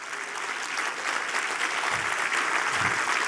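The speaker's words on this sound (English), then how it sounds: "Now's when you really cheer." Audience at a West Virginia Chamber business summit cheering and applauding as steam rises from smokestacks, a steady dense wash of clapping with a couple of low thumps near the end.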